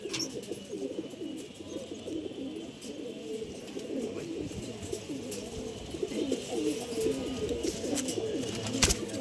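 Pigeons of a colored breed cooing in a loft, a continuous overlapping murmur of soft rolling coos from several birds close by, with occasional faint clicks.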